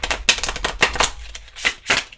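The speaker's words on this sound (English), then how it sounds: "Shuffling this deck is a bit hit and miss." A stiff, high-quality tarot card deck being shuffled by hand, with several crisp, uneven riffling bursts and brief pauses between them, close and clear.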